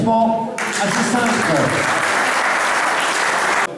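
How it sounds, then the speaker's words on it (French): Applause for the finishers of an FSGT cycling race at an awards evening, a steady dense wash of clapping, loud and close, running nearly the whole stretch after a voice opens it. "Allez, applaudissements à ces 5"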